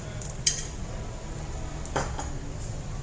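A utensil knocks twice against a hot iron dosa pan while ghee is spread for millet dosa, one sharp clink near the start and a softer one later, over a low steady stove hum.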